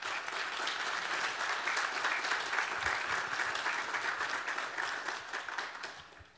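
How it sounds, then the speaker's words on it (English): Audience at a student services division meeting giving sustained applause, a soft, even wash of many hands clapping from a distance, fading slightly at the end. "So big applause."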